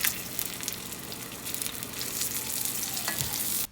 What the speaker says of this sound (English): Once the oil is hot, place the steak into the frying pan.